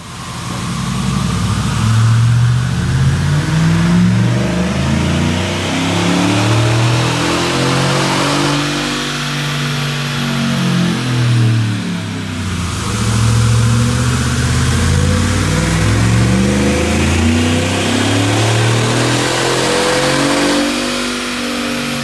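A regular cab short bed pickup truck with an S&B cold air intake, its engine revving loud and close, climbing and falling through repeated rises in pitch over a sustained rumble, no talk.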